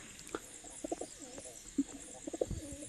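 Newly kept pigeons coo in soft, low, rounded bursts at close range, with a few scattered calls over a faint background.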